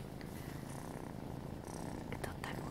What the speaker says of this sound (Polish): Jakie mruczenie tu odchodzi.